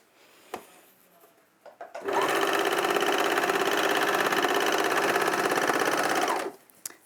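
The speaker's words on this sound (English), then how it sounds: "We're going to sew all the way around the sides" A sewing machine stitches cotton canvas around the sides of a piece, starting after a quiet pause with a few light knocks, then running at an even, rapid, close-up buzz for about four seconds before stopping abruptly.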